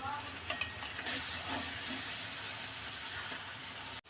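Tomato sizzles in a pan with ginger and chili paste, a steady frying hiss close by with a few clinks and scrapes from stirring.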